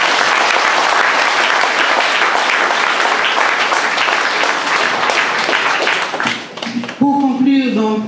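A crowd at a political speech in Basse-Pointe breaks into loud, sustained applause for about seven seconds, fading as a voice returns at the end.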